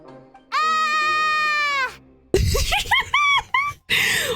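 Layla, a Genshin Impact character, lets out a long, loud, wavering scream that sounds like a goat bleat, followed by a burst of shorter, choppy yelps close up.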